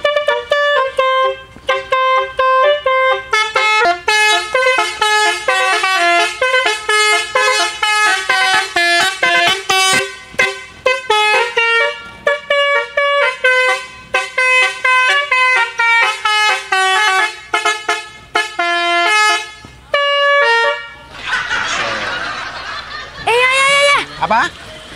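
A Basuri-type musical car horn plays melodic tunes in loud, punchy tooted phrases with brief gaps, ending in a warbling, siren-like passage while people talk at times.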